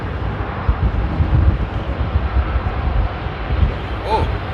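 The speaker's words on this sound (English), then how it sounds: "Oh, Silkway taxiing too." Silk Way aircraft taxiing at Amsterdam Airport in stormy weather, a low, rumbling engine drone heard from a distance with gusty wind buffeting the microphone, steady throughout with a brief higher whine near the end.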